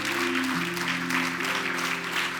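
Church congregation clapping together, a dense wash of applause over a sustained keyboard or organ tone, steady throughout.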